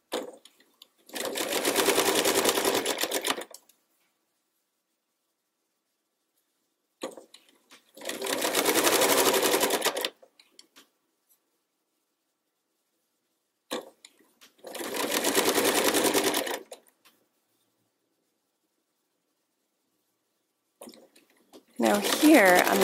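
A sewing machine stitches fabric along a curve in three long, even bursts of rapid clatter separated by silent pauses, with another start near the end; the machine sounds close and alone.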